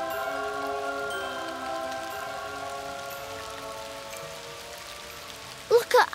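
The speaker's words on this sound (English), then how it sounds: "rain." Light rain patters steadily over soft sustained musical tones in a children's animated show, a continuous gentle hiss that fades slightly before a couple of brief louder bumps at the end.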